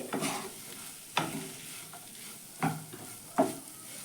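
A sweet filling for lachha kachori is stirred in a pan, with a faint sizzle beneath four distinct scraping strokes of a spoon against the pan, spaced about a second apart.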